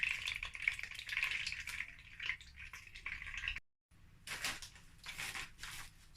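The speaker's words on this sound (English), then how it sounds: "So guys, this is the oil I used to fry the fish. I'm going to add it to the pot." Hot oil left from frying fish is poured into a hot pot while ogbono soup is being made. It gives a quiet, crackling sizzle with a few small clinks. After a brief gap the sizzling returns in short bursts.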